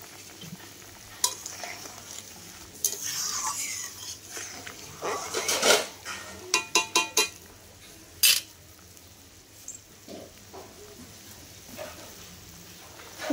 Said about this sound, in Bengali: ঝোলটা ফুটে গেছে, আমি এবার এই যে উচ্ছেগুলো দিয়ে দিচ্ছি।